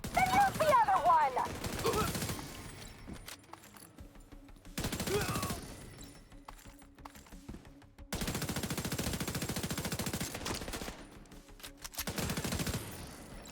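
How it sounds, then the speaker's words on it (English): Bursts of automatic gunfire in a video game, several rapid volleys separated by short pauses, close and loud, with faint game voices underneath. "Doing some shooting."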